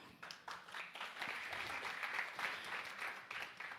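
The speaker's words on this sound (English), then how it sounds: "Another hand clap for her." Audience hands clap in a sustained round of applause for a speaker at a climate and nutrition conference event in Paris, dense and moderately faint, swelling briefly and then settling.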